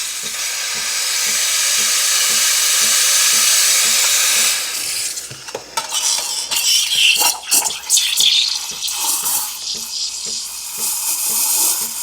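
A Breville Barista Express steam wand hisses steadily for about five seconds while aerating milk for a fluffy foam, then shifts into sputtering, gurgling bursts as the jug is worked, loud and close.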